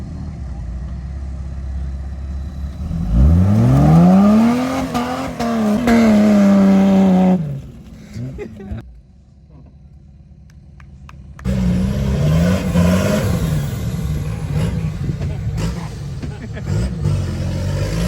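A 4x4 off-road vehicle's engine revs hard with a clutch kick during a mud winch challenge at the Maxxis Mud and Steel event in Methven, New Zealand, rising to a loud sustained roar then dropping away before another stretch of engine noise, with people talking nearby.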